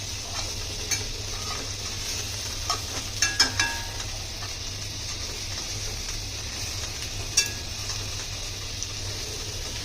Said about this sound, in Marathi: याच्यामध्ये कमी तेलामध्ये पण फ्राय होते मच्छी.